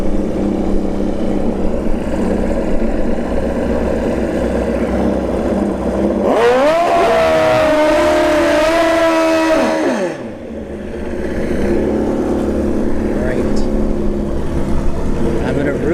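Kawasaki and Suzuki motorcycles launch in a drag race at a bracket racing strip, engines screaming loudly for several seconds as they rev up through the gears, then fading away over a steady crowd and commentary murmur.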